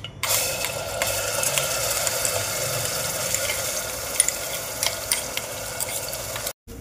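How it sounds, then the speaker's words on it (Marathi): Onion paste fries in two spoons of oil for chole masala, giving a steady, close sizzle with an even crackle and occasional stirring clicks and no voices. "आता ही कांद्याची पेस्ट टाकून देऊ परतायला"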